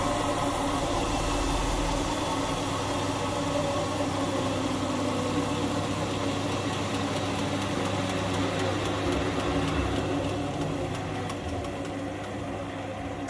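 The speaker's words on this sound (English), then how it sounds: "listen up to the motor as it's freewheeling" An Indesit 1400 washing machine (WMS E14), running with its top and back covers off, has its motor freewheeling after the power is cut, giving a steady close-up mechanical hum and rumble with no speech.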